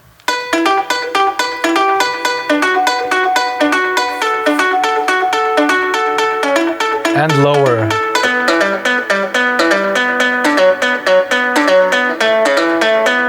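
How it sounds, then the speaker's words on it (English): A guitarlele, a guitar-ukulele crossover, plays a fast, steady run of bright plucked notes throughout, with a brief low sliding tone midway and a voice speaking briefly over the playing. "the guitar-lele sounds like this"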